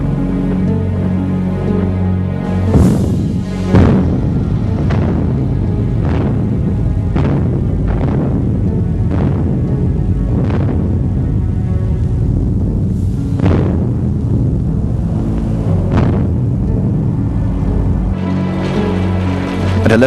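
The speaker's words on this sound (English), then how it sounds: "massed Soviet artillery opened up its first major bombardment of the war" A massed Soviet artillery bombardment on the Finnish front in World War II sounds as deep, rumbling booms and thuds, a dozen or so heavy blasts landing at uneven intervals over a continuous low roar.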